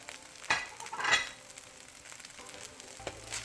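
Halibut fried rice with green onions being stir-fried, a soft sizzle with a few scraping stirs of the spatula, fairly close and fairly quiet, with no talking.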